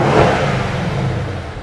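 Mercedes-AMG C63 S twin-turbo V8 from 2017, its sports exhaust opened for a quick rev blip: one loud, close burst of engine roar that swells and then fades away.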